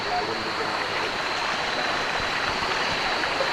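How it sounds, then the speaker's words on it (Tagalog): Noisy stream water rushes steadily and loudly, with a constant hiss filling the whole stretch and no distinct voices above it. "Naka-mic tayo mga idol kasi maingay yung tubig."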